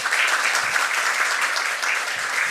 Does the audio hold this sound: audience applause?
yes